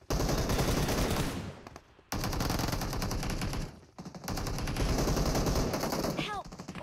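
Rapid automatic gunfire from the PUBG Mobile shooter game rattles loud and close in long bursts broken by short gaps, with faint voices barely present underneath.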